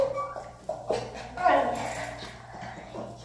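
A dog whimpers and whines softly in short rising cries, with faint shuffling movement in a quiet room.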